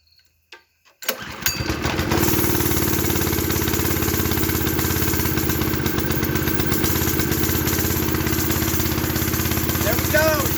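A custom-built mini bike with a swapped-in Honda clone engine pulls through a short start, then settles into a steady, loud, close idle that runs unbroken to the end.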